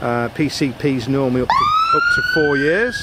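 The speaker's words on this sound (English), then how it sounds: "That was the ambulance, so my apologies." A person talks while an ambulance siren wails nearby, the loud rising and falling tone sweeping in midway and continuing under the speech.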